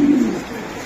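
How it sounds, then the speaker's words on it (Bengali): A male racing pigeon gives one short, close, throaty coo that fades quickly into quiet. "এটা একটা নর কবুতর"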